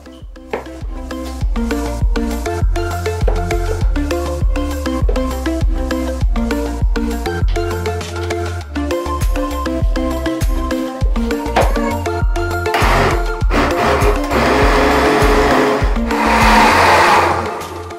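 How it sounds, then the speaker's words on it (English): A blender whirs through soaked beans with beef broth and peppers for moimoi, a loud close motor hum that pulses and strains before rising to a harsher roar near the end. "I'm done blending the beans."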